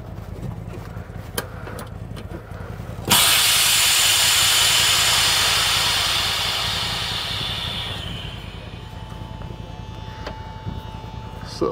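Compressed air bursts out with a loud, sudden hiss as a leaking truck air brake line is pulled from its fitting, then tapers off over several seconds over a low engine hum.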